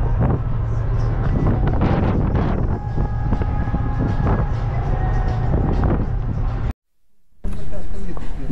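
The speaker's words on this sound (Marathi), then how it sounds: "वारा भरपूर आहे त्याच्यामुळे काय आवाज ऐकायला येत नसेल" Strong wind buffets a Ro-Ro ferry deck at night after rain, a loud roaring rush over a deep engine-like rumble, cutting briefly to silence near the end before the gust noise returns.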